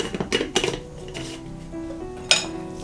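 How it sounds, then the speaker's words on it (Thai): A few sharp clinks and scrapes of a spoon against a bowl as salt, pink Himalayan salt and other ingredients for a clean-eating bitter gourd and shiitake mushroom clear soup are tossed together, close and moderately loud, with no talking. "จากนั้นก็คลุกส่วนผสมทั้งหมดให้เข้ากันนะคะ"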